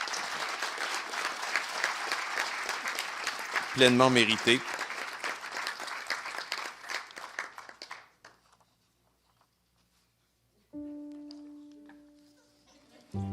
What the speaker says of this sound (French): Une bonne main d'applaudissements encore pour elle.